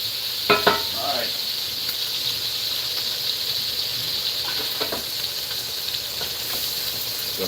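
Sausage sizzles in a pan during live cooking of shrimp and grits, a steady hiss with a few faint clinks of utensils and no talking.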